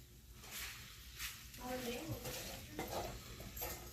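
A premade al pastor skillet meal is stirred and tossed in a pan, with scraping and clattering strokes over a soft sizzle, close by, while someone talks.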